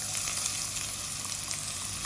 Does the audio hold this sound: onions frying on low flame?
yes